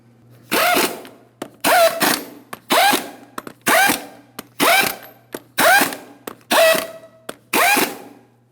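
A power tool, likely an impact wrench, tightens 22mm lug nuts on a wheel of a 2007-2014 GMC Sierra 2500 HD. There are eight loud, evenly spaced bursts of whirring, each about half a second long, with short pauses between.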